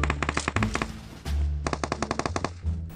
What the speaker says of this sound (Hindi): गोली चलने की आवाज़ आता है।